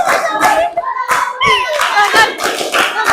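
A group of children in a classroom clap in rhythm during a chant, with rapid irregular claps and slaps mixed with their chanting voices, loud and close throughout.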